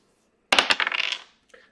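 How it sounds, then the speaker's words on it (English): Dice rolled onto a hard surface during a trading-card box break, a quick burst of clattering tumbles lasting under a second, then a faint final click as they settle. "Roll the dice to see which one we open first."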